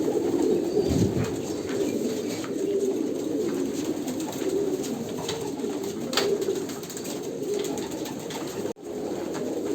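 Andhra pigeons coo steadily in a loft, a continuous low murmur of overlapping calls from many birds close by, with a few brief rustles and a short break near the end.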